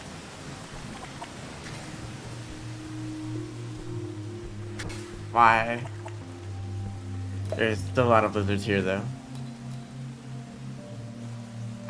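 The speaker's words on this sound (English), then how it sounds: "Yeah, the rain's great." Rain falling in the video game Rain World, a steady hiss of rainfall with low rumbling drones underneath while a person talks over it.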